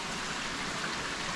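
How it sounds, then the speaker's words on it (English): Small man-made waterfall beside a cave entrance in a park, a steady broadband rush of falling water heard close and alone throughout. "I just thought I'd show you this really cool waterfall"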